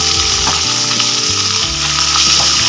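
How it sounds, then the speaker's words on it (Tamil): Horse gram and a small tomato roast with salt in a hot pan, giving a loud, close, continuous sizzle with occasional stirring scrapes. "போட்டு நல்லா ரோஸ்ட் பண்ணுங்க."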